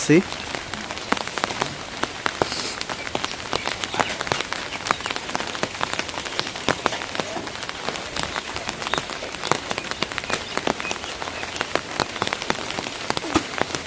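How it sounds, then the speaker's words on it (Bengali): Rain falling steadily on a surface outdoors during the season's first shower, a dense close patter of drops with sharper individual hits, continuous throughout. "বৃষ্টি পড়তেছে আমি ছাতা নিয়ে দাঁড়িয়ে"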